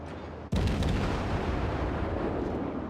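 Heavy naval gunfire from a Gremyashchy destroyer in World of Warships. One sharp boom bursts in abruptly and is followed by a sustained loud rumble of continuous cannon fire with no voices.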